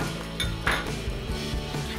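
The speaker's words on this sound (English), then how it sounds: "so next step is to grab a pan" Cookware clattering in a kitchen as a non-stick pan is pulled out, a few close metallic clinks and knocks over a low background hum.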